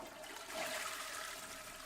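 Steady hiss of a shower running in The Sims 4, a continuous broadband water spray with no talk, even and close throughout.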